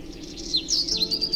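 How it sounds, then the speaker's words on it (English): Birds chirp and tweet in short, bright calls over a soft, steady background, the song growing livelier halfway through this brief moment. "When the birds sing,"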